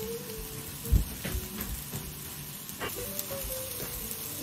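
A hamburger steak sears over high heat in a pan, a soft, steady hiss with a few faint knocks and clicks in the background and no talking.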